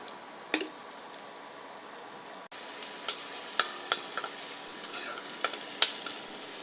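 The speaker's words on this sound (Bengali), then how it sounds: "এখন নেড়ে নেড়ে ভালোভাবে ভেজে নেব" Onions frying in a pan as they are stirred, a quiet constant sizzle broken by several sharp spatula scrapes and taps close by.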